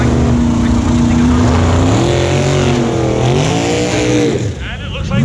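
A Ford pickup truck and a Chevy sports car launch side by side in a no-prep drag race at South Mountain, engines roaring loudly and revving upward with spinning tires, while an announcer talks over the noise.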